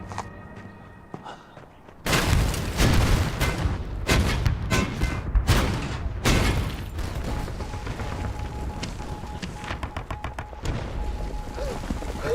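In a wartime battle scene, enemy artillery shells a city and blasts open its gate. After a quiet opening, a sudden loud barrage of deep booms, thuds and crackling gunfire erupts and continues as a dense, rumbling roar, with no voices.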